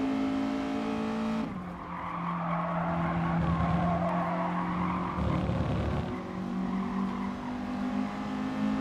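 Tires skid and squeal as a race car's handbrake is used in an FIA Nations Cup racing game, over a steady engine drone, with the skid swelling across several seconds, loud and close.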